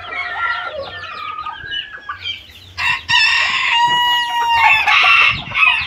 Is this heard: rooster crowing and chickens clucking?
yes